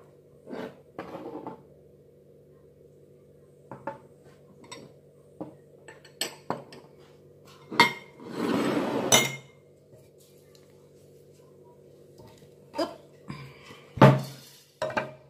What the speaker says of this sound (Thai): เราจะมาหั่นเนื้อที่เหลือก่อนนะคะ